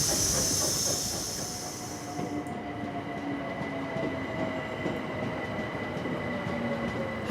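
A train pulls into Hackney station with a loud, continuous rumble of wheels on rails and a steady hiss, a high squeal fading after the first couple of seconds as the carriages slow.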